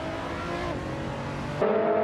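A 2023 Porsche 911 race car in a racing video game runs at a steady engine drone, its pitch shifting as it changes gear partway through, loud and continuous with no talk.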